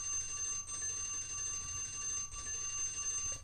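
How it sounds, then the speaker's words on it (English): Electronic alarm clock ringing in steady repeating beeps, high-pitched and continuous across the whole stretch with two brief gaps, over a low background hum. "Oh, that's my alarm."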